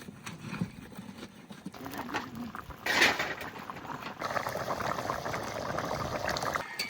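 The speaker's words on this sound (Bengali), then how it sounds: "এবার একটু ভালো করে জাল দেবো টান করে" Duck meat curry with ash gourd bubbling in a pot over the heat as it reduces, a soft continuous simmer with denser bubbling in the second half, close and fairly quiet.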